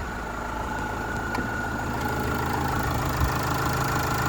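A steady 2.5-litre diesel engine in a 2011 Opel Vivaro van idles close by, a low continuous rumble with a faint rhythmic knock and no voices.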